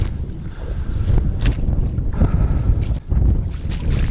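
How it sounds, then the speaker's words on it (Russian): Strong wind sweeps across a marsh in spring, a loud, continuous roaring rush buffeting the microphone with gusty swells and brief lulls, and no voices. "Ух, ветрено."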